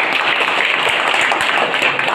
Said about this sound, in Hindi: को जोरदार ताली देवा